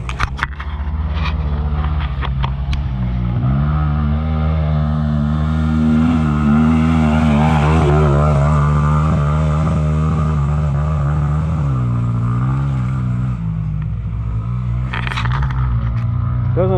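Small off-road motorbike riding past at a camp, engine note climbing and falling as it passes close and loud, with a steady drone that starts to miss at high revs, alone with no talk.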